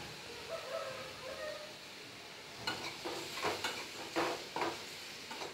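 Grated coconut sautéed in a pan for chutney, a soft sizzle under several scraping, stirring strokes of a spoon against the pan, close and fairly quiet.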